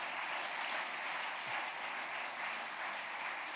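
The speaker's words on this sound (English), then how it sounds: "Round of applause at that point" A large audience at the 2013 BBC Music Magazine Awards ceremony breaks into steady, sustained applause, a dense even patter of many hands clapping throughout with no one talking.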